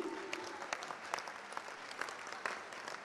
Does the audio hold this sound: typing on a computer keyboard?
no